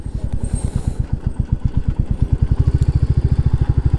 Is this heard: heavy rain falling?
no